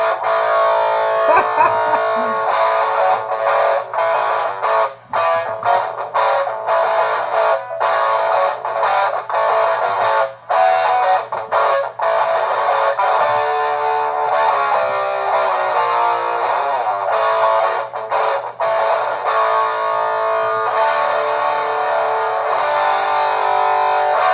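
A small guitar amplifier, the Little Smoky, blares a buzzy, heavily distorted electric guitar played straight into it, continuously, with a constant hum underneath and no talking.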